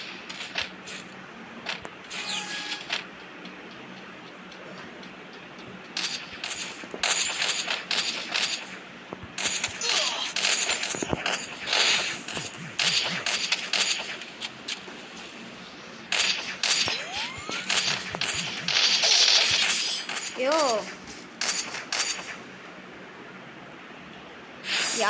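Gunfire in a video game rings out in repeated bursts of shots and impacts, some spaced apart and others in rapid runs, with no talk over them.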